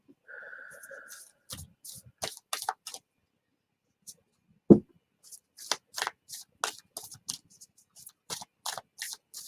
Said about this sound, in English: Donna, I'm going to pull a card for you.